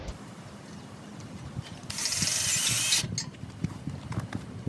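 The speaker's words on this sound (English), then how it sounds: "I'm going to put both screws in here first." A screw is driven into an aluminum pool fence railing bracket, a roughly one-second burst of power-driver whir amid quieter ratcheting, handling clicks and knocks.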